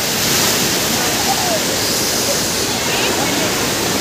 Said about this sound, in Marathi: पाण्याचाच आवाज आहे बघा.